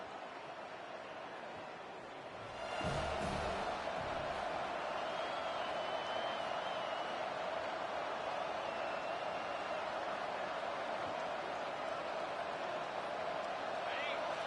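A stadium crowd roars in EA Sports College Football as Northwestern hosts Florida, a broad, sustained wall of cheering that swells suddenly and holds steady, with an announcer talking over it.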